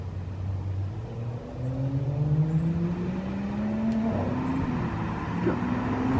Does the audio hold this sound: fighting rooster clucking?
no